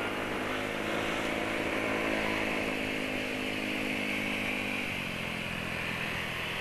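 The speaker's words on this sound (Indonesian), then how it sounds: "Ini motor knalpot racing banter ini, tak akui banter." A Yamaha Nouvo motorcycle with a loud racing exhaust roars past nearby, its rasping engine note holding high and steady before easing slightly as it moves off.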